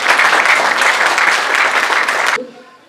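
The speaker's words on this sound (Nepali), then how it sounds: "हामी सबैलाई सँगै अनि एकैसाथ हामी ताली बजाएर हामी स्वागत" At a graduation ceremony of the Great Commission Institute, an audience claps together in a loud, dense burst of applause welcoming guests, then cuts off abruptly into a quiet room.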